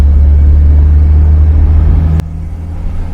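A 1965 Wolseley 24/80 six-cylinder sedan pulls away from a traffic light, its engine droning loud and steady with a deep low hum and fairly high revs, then a sudden gear change drops the rumble to a lighter tone.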